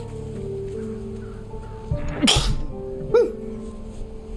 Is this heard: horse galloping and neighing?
no